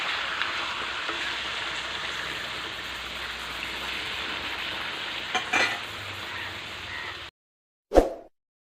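Chicken with spices frying in a wok while being stirred, giving a dense, even sizzle for several seconds close by, ending abruptly before one short clunk.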